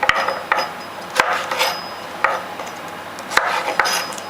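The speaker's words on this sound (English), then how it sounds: "I'll chop up the washed beans" Knife chopping washed green beans on a board for five-spice tofu with lychees, an irregular series of crisp close cuts and taps with short pauses, no voices.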